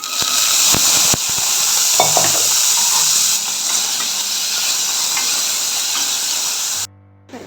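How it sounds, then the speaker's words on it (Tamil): Mustard seeds, urad dal and dried red chillies fry in a spoonful of oil, giving a loud, steady sizzling hiss with scattered crackles and pops before it cuts off near the end. "ஒரு ஸ்பூன் ஆயில் விட்டு கடுகு உளுத்தம் பருப்பு வரமிளகா"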